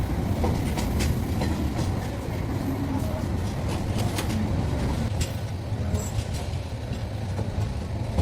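Burimari Express train running on rails, a steady loud rumble with faint rhythmic clatter throughout, close by and continuous.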